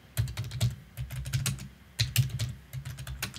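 Commands are typed on a computer keyboard while configuring a Juniper SRX300 device, producing quick irregular bursts of clicking keystrokes with short pauses between, fairly close and quiet, no talking.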